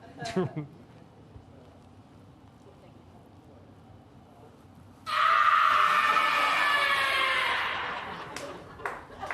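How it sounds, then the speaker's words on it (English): A loud, sustained scream sound effect played on a Disney news show blares out suddenly after a quiet stretch and holds for several seconds before tailing off. "Now please play the scream."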